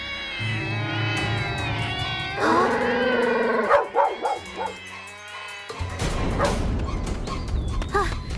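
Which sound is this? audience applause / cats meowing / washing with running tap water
cats meowing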